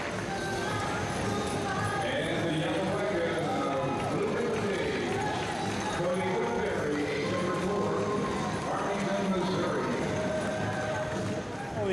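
An eight-horse hitch of draft horses works at the Indiana State Fair, hooves clopping and scuffing over a continuous crowd murmur and talk, loud and close throughout.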